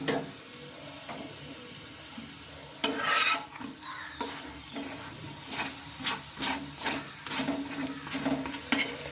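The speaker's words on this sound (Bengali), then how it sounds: "তেল দিয়ে এটাকে ভালোভাবে ভেজে নিতে হবে" A semolina snack fries in oil with a soft sizzle, broken by repeated scraping and stirring strokes from a spatula in the pan. It is close and moderately loud, with no voices.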